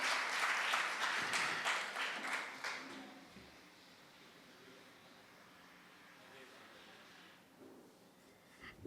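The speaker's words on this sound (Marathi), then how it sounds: "जोरदार टाळ्या यांच्यासाठी सुद्धा." Audience applause at a lecture session in Thane, loud steady clapping for about three seconds that then fades to a faint murmur, with a few scattered claps near the end.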